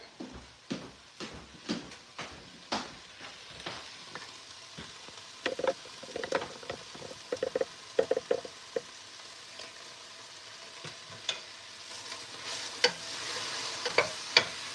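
Enchiladas frying in a pan on heat set too high, a steady soft sizzle under repeated scraping stirs with a utensil, the strokes coming in quick irregular clusters close by.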